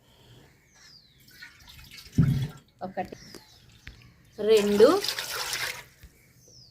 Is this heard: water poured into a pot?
yes